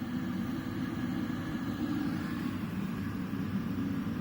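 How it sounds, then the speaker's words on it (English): A Merrychef Eikon E4S commercial oven runs its microwave power test, giving a steady low hum and whir with a faint high tone. It is continuous and close, with no talking. "select microwave power test. Microwave power test. And there we go, you can hear it start up."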